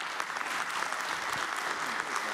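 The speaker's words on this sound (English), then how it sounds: "a huge round of applause for our amazing panel" An audience applauds a leadership panel at EVE Fanfest 2025, a dense, steady clapping crowd sustained for a couple of seconds, moderately distant.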